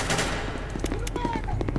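Rapid automatic gunfire in an SCP video game, dense bursts of shots over a noisy backdrop of game sound, with voices chatting faintly underneath.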